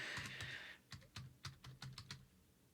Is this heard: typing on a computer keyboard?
yes